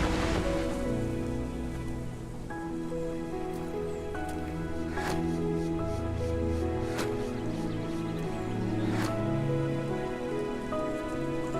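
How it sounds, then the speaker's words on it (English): Steady in-game rain in Path of Titans pours down across a surface, with scattered louder drops and splashes standing out over a dense continuous patter. "Even the constant downpouring rain can become dangerous for a small hatchling like Zorek."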